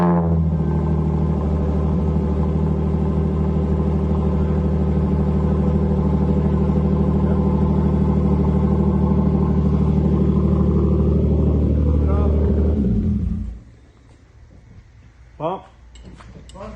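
A Hyundai Genesis Coupe engine idling after a Brembo brake caliper conversion, a steady close rumbling hum that cuts off abruptly near the end, followed by quiet clicks and a brief voice.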